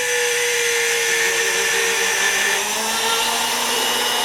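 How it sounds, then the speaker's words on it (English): A power drill bores straight down into a wooden dowel held in a bench pin, a steady close whine whose pitch sags slightly partway through, running without pause and with no voices. "Just hold it in your bench pin and drill straight down."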